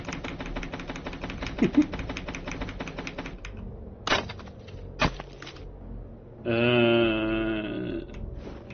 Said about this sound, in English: Begin chopping the log.